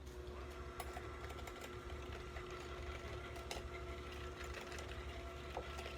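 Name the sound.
handheld mixer whipping butter and sugar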